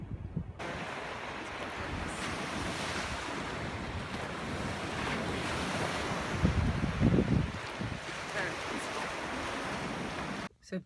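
Gulf of Mexico surf at Siesta Key beach, Florida, with steady washing waves and a continuous wind rush over the microphone, a slightly stronger breaker swelling partway through.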